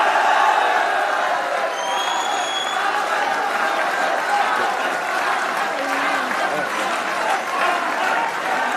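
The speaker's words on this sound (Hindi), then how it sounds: "और अहमद भाई की तरफ से बाबर के लिए तालियां होनी चाहिए।" Sustained applause from a studio audience on a Pakistani cricket talk show honours Babar, a full, steady wash of clapping with faint cheers mixed in, loud and unbroken throughout.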